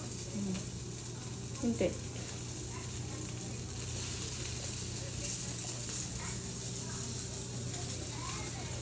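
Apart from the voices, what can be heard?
ragada patties frying in oil on a pan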